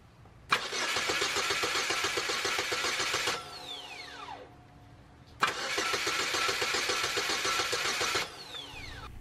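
A GM 2.2L Ecotec engine with a no-start fault cranks twice via a remote starter switch, each a few seconds of rapid rhythmic grinding churn, stopping abruptly between attempts.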